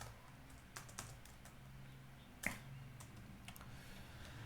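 Fingers type on a computer keyboard in a quiet room, a soft, uneven run of close key clicks with one sharper tap partway through.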